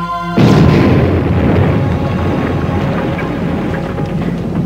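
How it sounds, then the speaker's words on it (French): A sudden loud boom erupts, followed by a long low rumbling roar that slowly fades but lingers throughout. "Et j'entends l'explosion."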